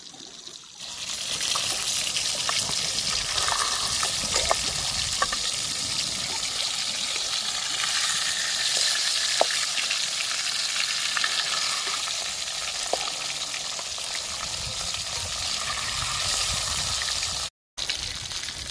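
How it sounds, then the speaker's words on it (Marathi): Fresh jilebi fish fry in oil in a pan beside a dam, a steady loud sizzle and crackle continuing throughout, with occasional stirring clicks and a brief dropout near the end. "त्याची जिलेबी फ्राय करून घेते."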